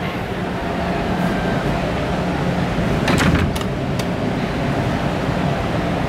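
Ventilation noise fills a telephone exchange building housing MT25 and E10B3 switching equipment, a loud steady broadband rush with a brief cluster of clicks partway through.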